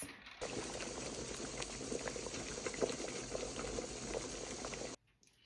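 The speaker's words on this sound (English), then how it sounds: "I'm going to put these back in the water bath canner, and I'm going to process these for a few minutes." Small jelly jars of spring-flower jelly being processed in a water bath canner, the water boiling with a steady, dense bubbling roar that runs without break and then stops abruptly.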